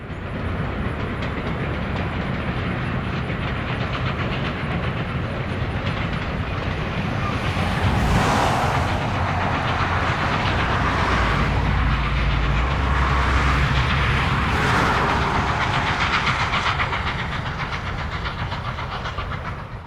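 N&W 611 steam locomotive hauling a passenger excursion through open fields with mountains behind, a loud sustained rumble that swells past the midpoint and fades toward the end, with no voices.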